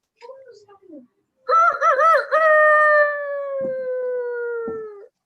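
A person's voice imitates a rooster crowing in a teaching workshop on storytelling: short vocal sounds, then one long, loud warbling crow that slowly trails off, alone and close.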